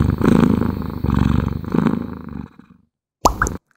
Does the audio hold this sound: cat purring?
yes